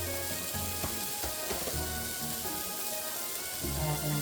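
Celery and carrot sizzle as they fry in a pan with oil for home-style pancit, a steady crackle with occasional stirring clatter, close and moderately loud.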